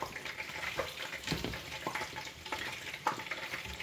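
Potato pieces dropped into pork steak frying in a pan, an irregular crackling sizzle with several soft knocks and scrapes of food and utensil, moderately quiet and close.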